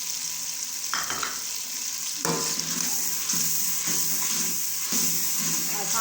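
Green chillies stir-fried in a pan of frying masala, a steady sizzle with a spoon scraping and stirring at intervals, close and fairly quiet.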